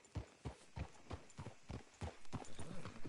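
Horse hooves clip-clop in a steady, even rhythm in Red Dead Redemption II, a Western video game set in a frontier town. The hoofbeats are close and fairly quiet, with no talk.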